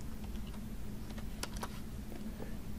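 Typing on a computer keyboard while setting a PowerPoint table font size: a few quiet, scattered key clicks over a low steady background hum.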